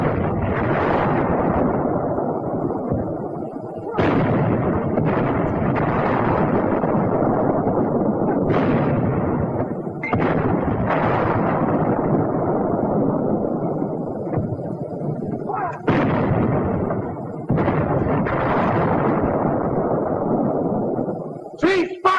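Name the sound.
WWII US Army infantry weapon firing shots at a thick roadblock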